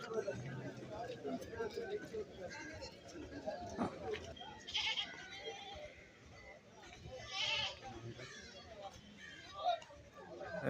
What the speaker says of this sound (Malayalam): സിരോഹി മുട്ടനാട് ഇവിടെ നിൽപ്പുണ്ട്